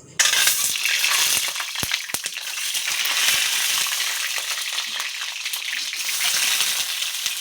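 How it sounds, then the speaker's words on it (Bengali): Eggs dropped one by one into hot oil in a wok fry with a steady, bright sizzle, close and loud throughout, with a few sharp crackles and pops rising above the hiss. "তো তেল দিয়ে দিয়েছি, এখন আমি ডিমগুলো দিয়ে দেবো একে একে।"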